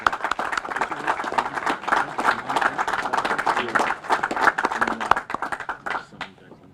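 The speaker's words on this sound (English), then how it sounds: "one more round of applause for our new officers" Crowd applause at a police swearing-in ceremony honoring new officers, steady dense clapping from many hands that carries on for several seconds and then tapers off near the end.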